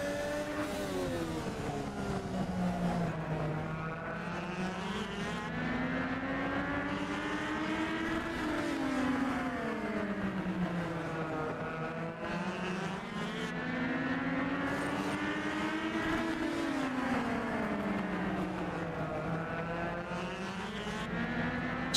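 Legend cars racing on the Atlanta oval, a pack of small engines droning continuously, their pitch rising and falling in long sweeps as they lap, loud and steady with no talk.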